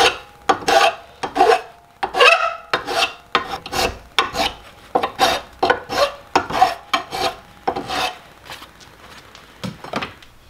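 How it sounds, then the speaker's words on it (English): Rhythmic rasping strokes of a hand file on a metal bracket for a Ford Transit van, about twenty back-and-forth passes, close and loud with brief pauses between them. "let's file her down a little bit"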